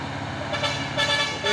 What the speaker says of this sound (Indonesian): Truk trailer Fuso ini ya.